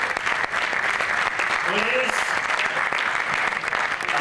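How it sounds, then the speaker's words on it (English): Loud, sustained applause from a crowd at the foundation-stone ceremony for Ferrari Land at PortAventura, a continuous wash of clapping with a presenter's voice briefly heard over it. "a big applause for"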